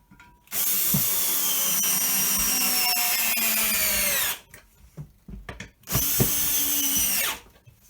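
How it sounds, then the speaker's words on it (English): Power drill driving two lag bolts into a Crackpots clay extruder mount, a loud close whine that drops in pitch as each bolt tightens, in two long bursts with a short pause between. "So I'm just going to tighten these two lag bolts up."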